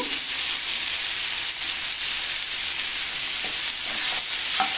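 Bottle gourd pieces with rock salt frying in a pan, giving a steady, close sizzle with faint stirring scrapes throughout, no voices.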